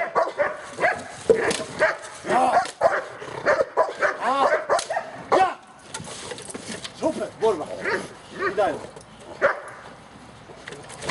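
A Belgian Malinois in training out in November woods gives repeated sharp barks and yips, close and loud, with a handler's voice talking and giving commands between and over them.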